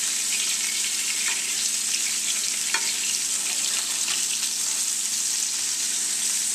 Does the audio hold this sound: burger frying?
yes